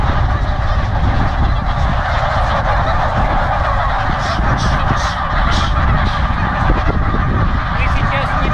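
A flock of geese honks continuously and loudly at close range while being herded into a corral on Wrangel Island in the Arctic, the overlapping calls forming a dense, unbroken chorus.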